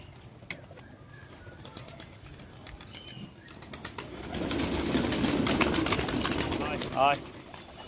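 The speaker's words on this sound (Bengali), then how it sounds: "এ হচ্ছে কবুতর" Pigeons released from a rooftop burst into loud, rapid wing flapping that swells midway and lingers, with a brief coo-like call near the end and a voice speaking faintly in the background.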